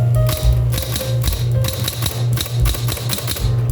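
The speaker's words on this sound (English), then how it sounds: "Typewriters, gotta love them." Rapid keystrokes clatter on a mechanical typewriter, with crisp irregular clacks and carriage thumps in a steady busy rhythm, loud and close with no voices.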